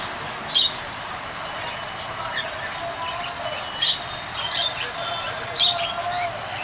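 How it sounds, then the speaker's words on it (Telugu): Exotic finches at a bird and aquarium shop give faint, scattered high chirps over a steady background hiss, with a few sharper calls standing out at irregular intervals. "చాలా యాక్టివ్గా ఉన్నాయి ఫించెస్ అన్నీ కూడా"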